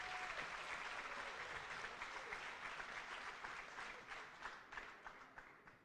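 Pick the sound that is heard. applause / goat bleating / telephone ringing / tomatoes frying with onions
applause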